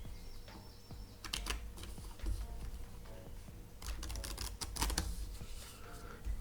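Two piles of playing cards riffle-shuffled together, giving close, crisp fluttering bursts of rapid card clicks in a couple of separate runs, with softer handling noises between them.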